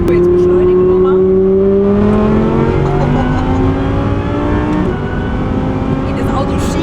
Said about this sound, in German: So, jetzt beschleunigen wir mal.